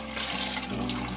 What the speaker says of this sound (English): I'm going to go ahead and add my water now